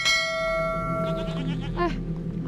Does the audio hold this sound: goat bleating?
yes